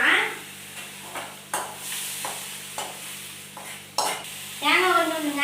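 Tomatoes sautéing in oil in a pan: a steady sizzle runs under repeated scraping and stirring strokes of a utensil against the pan, with a voice speaking briefly at the end.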